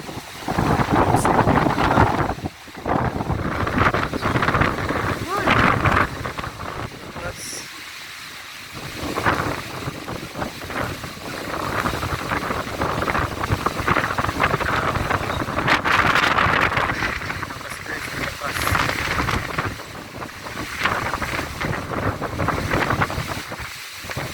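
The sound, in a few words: Strong wind and heavy rain during a storm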